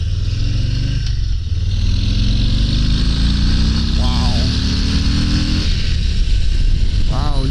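2022 Harley-Davidson Low Rider S motorcycle engine pulling hard under acceleration, a loud continuous throaty drone rising steadily in pitch through a gear, with strong wind rush and a voice talking over it.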